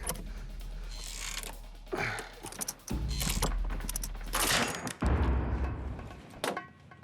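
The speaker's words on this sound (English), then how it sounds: "Just broke a bolt on the damn thing without putting any pressure on." A bolt giving way on heavy shipping equipment while being worked, with grinding, creaking mechanical strain, sharp metallic knocks and thuds, close and fairly loud against background noise.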